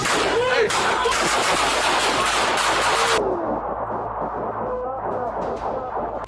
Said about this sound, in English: a violent suspect who suddenly opened fire on officers with an AR-style rifle